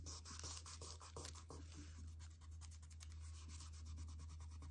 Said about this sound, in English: And we rub this onto the clay and it will stick.